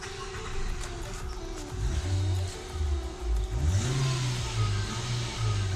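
A 2012 Nissan Sunny with a wiring issue has its engine revved on the accelerator, rising and falling through several loud, close revs over a continuous running hum.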